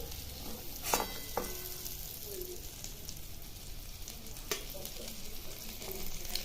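Green chillies frying in hot oil for a spicy masala chilli side dish, giving a soft, continuous sizzle with a couple of sharp utensil clinks early on, fairly quiet and without speech.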